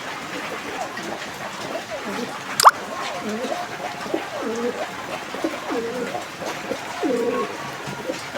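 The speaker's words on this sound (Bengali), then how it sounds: "বাদশা ভাই, এটা কি জাতের কবুতর?" Several pigeons coo in low, repeated throaty phrases close by, with a brief sharp knock partway through and faint background hiss.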